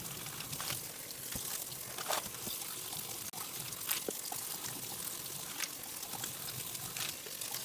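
Greens rinsed under running kitchen water: a steady trickle and splash with irregular bursts and soft knocks as the leaves are handled, close and moderately loud.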